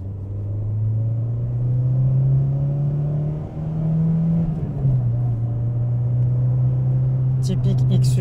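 Close, steady hum of a 1991 Peugeot 309 GT's 1.9-litre XU petrol engine, pitch rising gently, dipping and settling, with a short burst of higher noise at the end.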